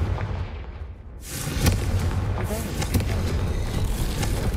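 Spell explosion effects in a Harry Potter video game, a heavy booming blast that opens into a sustained roaring rumble with sharper cracks, a voice speaking in between.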